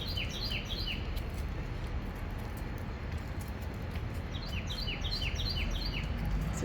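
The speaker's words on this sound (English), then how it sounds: "That's a really pretty sounding bird." A bird sings in Savannah, Georgia, with repeated bright chirping phrases rising above a steady low outdoor rumble, clearest at the start and again toward the end.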